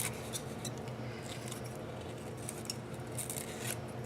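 Scissors snip through glittery material while a cork wreath is being finished, giving a steady, close run of small rustling cuts with faint crinkly clicks and no talking.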